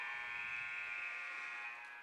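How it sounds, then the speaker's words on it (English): A period-end buzzer blares in an ice hockey arena during a BCIHL college game, one long steady electronic tone that holds loud and unbroken for about two seconds before easing slightly. "As the buzzer sounds"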